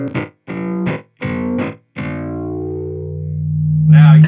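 A self-oscillating pitch shifter effect pedal in the style of the Rainbow Machine gives loud, distorted, pitch-bending tones in several short bursts, then a long sustained note that swells and warbles near the end.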